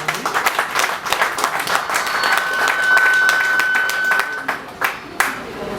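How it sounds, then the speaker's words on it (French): A large audience applauds loudly and steadily at a public ceremony, dense clapping sustained throughout before thinning toward the end, with some crowd voices mixed in. "si vous pouvez encore applaudir très fort"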